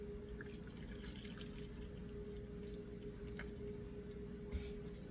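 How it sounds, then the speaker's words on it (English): Beef stock poured into a pan of braised short ribs, a faint, steady trickle of liquid with small drips and splashes over a low background hum, with no talking. "they want you to pour 1 cup of stock in here"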